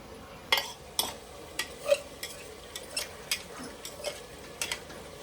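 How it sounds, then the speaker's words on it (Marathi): Chicken pulao being stirred in a pan until its water cooks off: a dozen or so sharp spoon scrapes and taps against the pan, falling in an irregular rhythm over a faint simmer. "त्यातलं पूर्ण पाणी आटेपर्यंत हलवत राहायचं"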